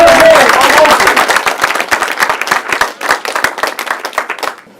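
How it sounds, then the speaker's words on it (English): Audience at a mayoral debate breaks into applause, a loud dense burst of many hands clapping that thins into scattered individual claps and fades out over a few seconds. "I want you to give yourselves a round of applause"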